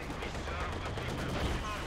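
Dense gunfire and machine-gun bursts crackle nonstop through a Company of Heroes 2 battle, a thick, loud wash of overlapping shots with no gap and a commentator's voice audible beneath.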